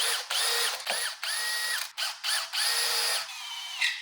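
A power drill bores holes in steel for a handbrake reinforcement on a C5 drift car, running in repeated close, loud bursts with brief pauses between them.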